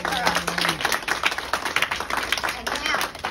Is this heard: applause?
yes